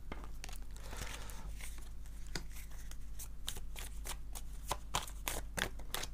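Oracle cards being shuffled by hand, soft repeated riffling and flicking close by, in quick bursts over a low steady hum.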